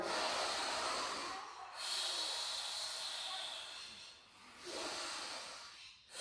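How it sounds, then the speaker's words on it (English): Slow, deep breaths during a jiu-jitsu stretch, each long airy inhale or exhale rushing close to the ear, about three breaths with brief pauses between, no talk. "there's a trick, and the trick is to breathe"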